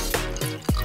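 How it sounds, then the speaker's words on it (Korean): Water falling as drops in a high-speed freezing demonstration, with a few distinct close splashy drips and hits spread across a short moment. "처음엔 물방울로 떨어지던 물이 어느 순간 갑자기 얼음의 형태로 굳어지기 시작합니다."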